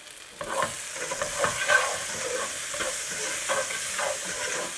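Spices, chili powder, garam masala and salt, being stirred through a pan of frying chickpea and paneer pulao, with a steady hiss of sizzling and repeated scraping strokes of the spoon close up.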